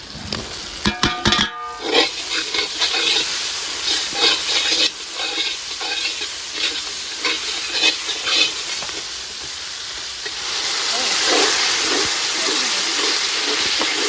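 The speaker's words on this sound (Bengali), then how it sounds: "মশলাটা খুব সুন্দর করে কষানো হয়ে গেছে" Chicken masala spices sizzle and hiss in a hot pan with green chilli and tomato, a steady frying crackle with a few sharp stirring clatters early on, growing a little louder toward the end.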